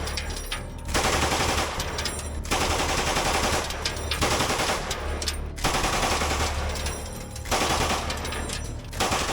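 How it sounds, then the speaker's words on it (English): An MG3 machine gun fired in combat, loud long bursts of rapid automatic fire alternating with short gaps, four sustained volleys close to the listener. "Now he is about to give the Russians a taste of the MG3's full belt"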